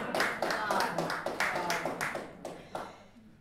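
An audience at a sing-along hit quiz event in Rønde claps in a roughly rhythmic series of sharp hand claps, moderately near and fading toward the end, with some voices mixed in.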